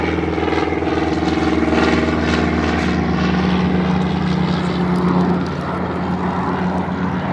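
A Hawker Hurricane Mk. XII fighter flies at Duxford, its propeller engine a loud, steady drone that holds throughout and eases slightly toward the end, with no voices.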